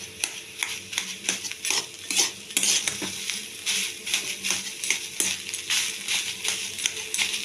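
A cauliflower filling is stirred in a pan, a rhythmic run of scraping and clattering spoon strokes over a soft sizzle, close and fairly loud throughout, with no one speaking.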